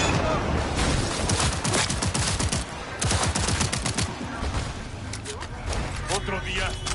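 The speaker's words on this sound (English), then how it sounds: "Hey! Enemy shots!" Gunfire in a Cyberpunk 2077 firefight: dense bursts of rapid automatic shots and loud cracks rattling throughout, with voices shouting amid the shooting.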